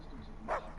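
Dog in the video game Uncharted 4 gives two short barks, about half a second apart, moderately loud over quiet ambient game sound.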